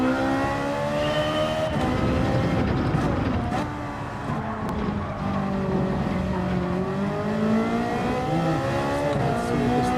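A small Ferrari racing in a video game, its engine revving and shifting through rising and falling pitches, steady and fairly loud, with a voice talking over it.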